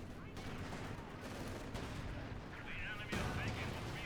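Anti-tank rifle fire and combat in the video game Company of Heroes 2, with sharp gunshots and heavy booms over a battlefield din, and a commentator talking throughout.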